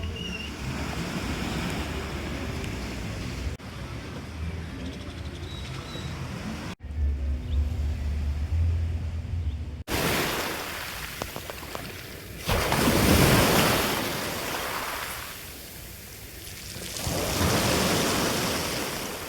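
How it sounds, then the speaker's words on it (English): Ocean waves crash against rocks and wash ashore in repeated surges, a loud rushing roar that swells and recedes, with no voices. "It's so calming to listen to the waves as the sun goes down."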